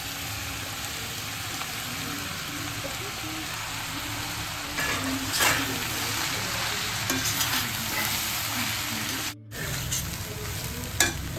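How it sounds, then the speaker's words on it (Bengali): Flattened rice for chira pulao stirred in a hot pan, a steady sizzle with scraping and rustling stirring strokes that swell midway and pause briefly before resuming. "এবার আমি চিড়েটা মেশাবো।"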